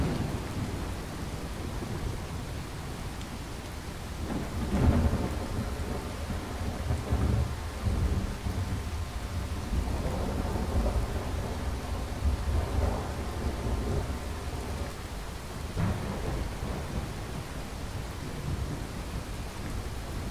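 Thunderstorm with pouring rain in the video game Fallout 4, steady dense rainfall throughout with several deep thunder rumbles and cracks, the strongest around the middle, no voices.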